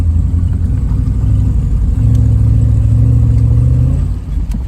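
An abandoned Chevrolet Suburban, left sitting for 13 years, rumbles loudly while being driven, its engine droning and rising in pitch through a rev before easing off near the end, close and rough with a faint clatter.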